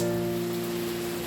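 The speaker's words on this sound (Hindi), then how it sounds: "तो बारिश शाम हो रही है" Heavy monsoon rain pours down in Vrindavan, a dense, steady hiss of falling water with a faint constant hum beneath it.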